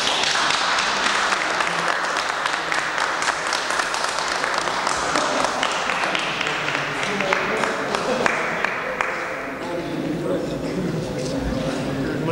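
Applause from a gathered audience at a formal meeting or announcement, sustained clapping with scattered sharper individual claps running the whole time, with some voices mixed in.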